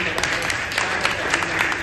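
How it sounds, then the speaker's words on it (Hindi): Loud, dense applause from an audience at a Rajasthan teachers' association meeting, continuous clapping filling the whole stretch with steady intensity and no pauses. "मंच वालों के लिए एक बार जोरदार ताली"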